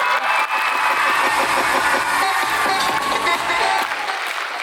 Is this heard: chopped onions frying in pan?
no